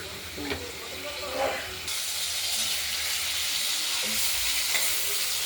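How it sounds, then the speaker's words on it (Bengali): Potatoes with turmeric and salt frying in a pan for a fish curry, a continuous sizzle with occasional stirring clatter, close and steady. "আলুগুলোকে অনেকটাই ভাজা ভাজা হয়ে এসেছে"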